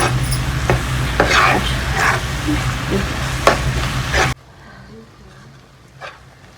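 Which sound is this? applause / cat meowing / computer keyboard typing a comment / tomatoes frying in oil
tomatoes frying in oil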